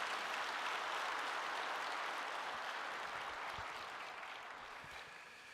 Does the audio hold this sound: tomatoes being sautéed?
no